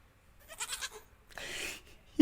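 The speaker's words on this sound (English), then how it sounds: "It's clearly a baby goat." A baby goat bleats twice, a short wavering cry followed by a longer, harsher bleat, close and alone with no talk.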